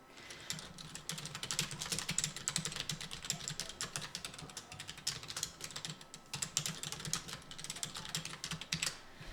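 Someone types a blog neighbour request on a keyboard: a quiet, rapid run of irregular clicking keystrokes that continues throughout with no speech.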